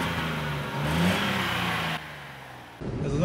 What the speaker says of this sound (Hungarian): Ez az autó egy 2003-as évjáratú 1 literes benzines